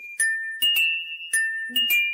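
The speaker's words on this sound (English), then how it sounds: "All the bells are ringing." Bright chiming bell strikes ring out in quick pairs, each tone clear and sustained, repeating several times with short gaps between.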